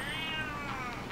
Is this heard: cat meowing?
yes